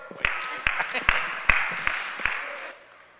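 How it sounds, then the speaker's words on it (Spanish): Brief scattered clapping in a church gathering, a handful of sharp distinct claps at uneven intervals with a voice talking over them, fading after a few seconds. "Ok, medio aplauso."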